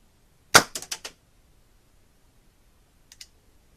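A miniature combustion cannon made from a lighter fires an airsoft pellet: one sharp crack followed by a quick ratchety rattle of several clicks, then a faint double tick a few seconds later, close and otherwise quiet.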